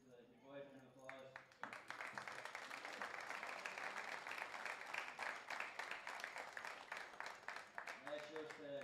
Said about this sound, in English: give the good wife an applause